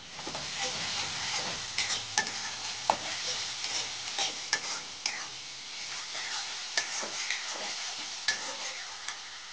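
Greens with garlic paste fry lightly in a pan for a leafy chorchori, giving a soft, continuous sizzle broken by scattered scraping clicks of a stirring spoon.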